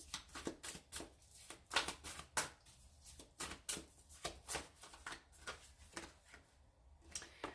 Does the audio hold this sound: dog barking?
no